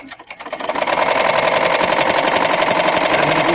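An embroidery machine stitching a penguin design starts up and settles into a fast, even mechanical whirring and clatter, close and loud, running steadily without speech.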